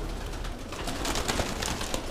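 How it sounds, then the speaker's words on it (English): A fancy pigeon coos inside a loft among other birds, soft repeated throaty coos under a constant rustling, noisy background with scattered flutters. "That there's a fancy pigeon."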